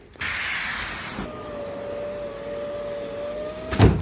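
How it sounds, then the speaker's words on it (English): A loud burst of silicone spray hisses for about a second, stops, then a faint whine lingers before a brief rustle. "Get yourself some silicone spray."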